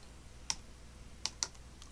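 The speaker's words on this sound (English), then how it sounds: "Let's type start." Someone types on a computer keyboard, producing three faint, isolated key clicks spaced unevenly over a quiet background.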